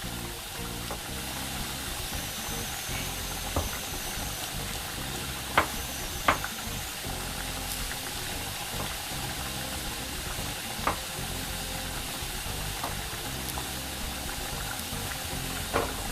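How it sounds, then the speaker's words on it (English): Peppers and lentils sizzle in a pan, giving a steady hiss with occasional sharp clicks of the pan or utensil, close and constant. "the peppers are just flipping away, the lentils are just flipping away"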